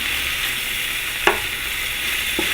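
Food sizzles loudly in a pan on a stove set to high, a constant close hiss with two sharp taps of a utensil against the pan, and no voices.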